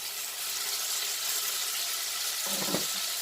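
Tomatoes hit browned onions in a hot pan, giving a continuous close sizzle and spatter, with a brief clatter of stirring or a utensil toward the end.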